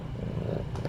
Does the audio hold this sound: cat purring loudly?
yes